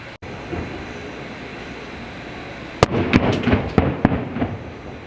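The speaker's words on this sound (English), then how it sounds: "as we wait for the fireworks that are going to happen right over there" Steady outdoor background at Disney's Polynesian Resort, then a cluster of sharp fireworks bangs and crackles in quick succession, fairly distant.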